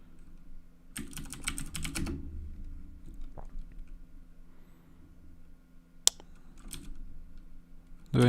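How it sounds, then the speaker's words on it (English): Someone types on a computer keyboard, with a fast burst of close key clicks near the start, then scattered single taps and a sharp click later, in a quiet room with no talking. "Let me type it correctly."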